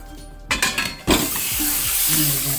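Scraping stirs of eggs in a pan of spicy egg gravy with salt and chili, a few quick clattering strokes, then a steady close sizzle and simmer.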